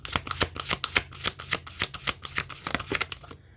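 Moonology oracle cards are shuffled in a steady run of quick papery riffles and flicks, close and fairly loud, ending in brief quiet.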